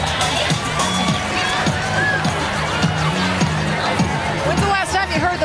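A large outdoor crowd cheers and shouts at a river parade, with children's voices mixed in. The roar stays steady and loud throughout, with rhythmic thumps and an announcer's voice under the noise.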